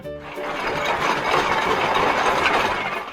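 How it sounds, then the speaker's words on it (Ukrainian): A blue tractor engine runs with a steady, loud, broadband mechanical drone that holds evenly for about three seconds, with no speech. "І нам допоможе у цьому синій трактор."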